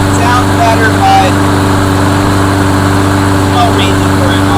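Lawnmower engine running steadily at about 3100 RPM: a loud, constant motor hum with an even tone, close to the microphone, with faint talking underneath.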